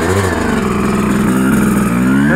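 A 2007 Suzuki RM 250 two-stroke motorcycle engine runs loud and close, with a rough, buzzy revving that rises and falls continuously and no voices over it.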